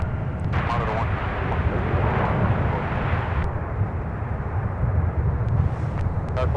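An airliner at Minneapolis–Saint Paul airport roars steadily and loudly, a broad, rumbling jet noise that fills the whole stretch, with voices faintly present at moments.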